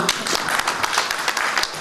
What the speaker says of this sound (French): Un petit peu d'applaudissement là.